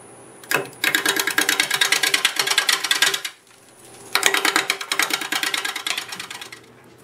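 Wood lathe spinning olive wood at 530 RPM, a gouge cutting in two long bursts of rapid, rhythmic chattering scrapes separated by a short quiet pause, close and fairly loud.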